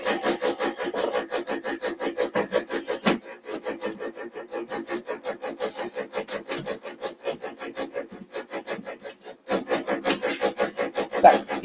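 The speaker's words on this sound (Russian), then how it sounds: "Потому что у меня сосед начал сверлить стену." A neighbour's drill boring into a wall: a loud, steady run of rapid rasping pulses that continues through the clip, with a brief dip near the three-second mark and a short gap before it resumes strongly near the end, no voices.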